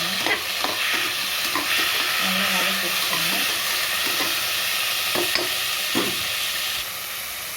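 Tomatoes sautéing in a hot pan: a constant broad sizzle with occasional scraping stirs and soft knocks, close and steady, fading slightly at the end.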